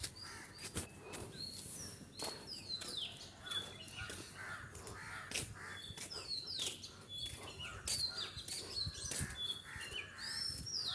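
Morning birdsong outdoors, dominated by repeated harsh crow caws mixed with scattered high chirps and tweets from smaller birds, fairly near and continuous with no talking.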